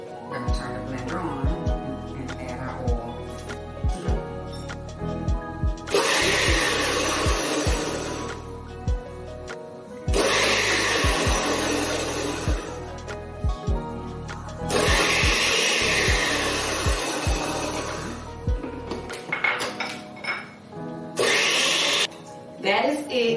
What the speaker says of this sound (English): gonna turn the blender on